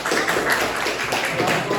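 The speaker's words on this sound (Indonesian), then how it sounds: "Beri tepuk tangan untuk kelompok" Applause from a gathered audience at an academic supervision session, a steady dense patter of clapping with some voices mixed in.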